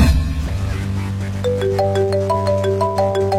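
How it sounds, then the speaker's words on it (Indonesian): A phone ringtone at night plays a loud, clear electronic melody of repeated tonal notes that rises in a simple pattern and carries on alone without speech. "Siapa yang malam-malam gini telepon?"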